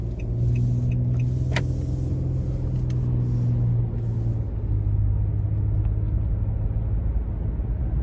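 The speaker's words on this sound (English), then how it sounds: "we're gonna go ahead and take this Murano out on the road for a quick test drive" A 2022 Nissan Murano Platinum cruises on the road, heard from inside the cabin as a steady low engine and road rumble with a slight shift in pitch partway through.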